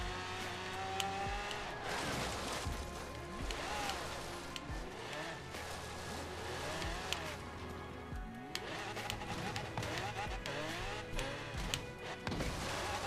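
Nissan Silvia with a V12 engine racing in a video game: engine revving up and down through gear changes, tire squeals and skids, and brief impact thuds, loud and continuous with rival cars nearby.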